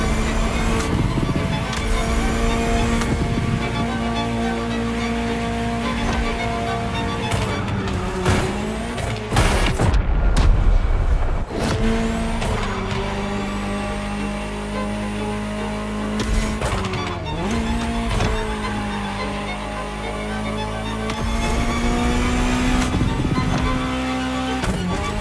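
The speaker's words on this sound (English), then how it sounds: "Just listen to the car you're driving." Ferrari supercar driven in The Crew Motorfest, a loud, sustained engine roar climbing and dropping through gears, with tire squeal and a brief skid around the middle, heard alone without talk.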